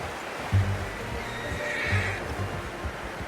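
A horse in Red Dead Redemption 2 gives a loud, close whinny and then a second one, with soft clip-clop of hooves underneath.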